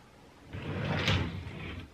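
The top drawer of a chest of drawers slides open or shut with a soft wooden rumble and scrape lasting over a second, close by and alone.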